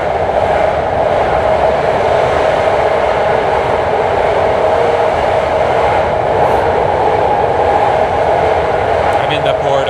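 A BART train roars steadily through the Transbay Tube under San Francisco Bay, with a loud, constant rumble and hiss heard from inside the car and no break in the noise.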